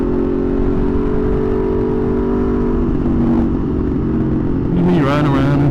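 A 2020 Aprilia RSV4 1100 Factory motorcycle engine drones loudly and steadily while being ridden, then revs up sharply near the end with a rising whine.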